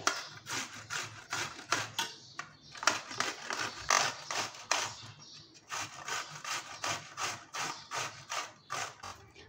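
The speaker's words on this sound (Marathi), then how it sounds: "तर आता आपण जो दोडका सोललेला आहे ना, तो असा किसून घ्यायचा आहे." Peeled ridge gourd rubbed against a grater, making steady rhythmic rasping strokes, close and fairly loud, with brief pauses between runs of strokes.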